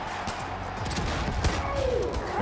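Hand cannon gunfire in the video game Far Cry: New Dawn: a few sharp shots cracking over steady game noise, with one loud report standing out near the middle.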